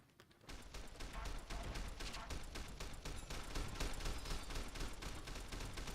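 Sustained gunfire in Fallout: New Vegas, rapid repeated shots hammering on without pause for several seconds, loud and dense, with no talking over it.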